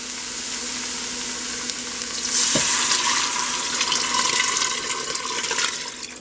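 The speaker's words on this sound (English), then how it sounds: "we're going to pour in the reserved broth" Broth poured into a hot pan of vegan chicken pot pie filling, the sizzle swelling into a rushing, bubbling wash of sound that continues for several seconds.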